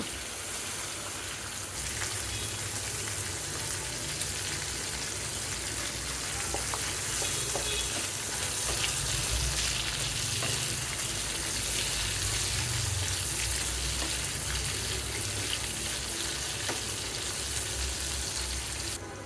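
Prawns frying in hot oil for a spicy prawn bhuna, giving a steady, dense sizzle that runs unbroken and fairly loud from start to finish with no one talking.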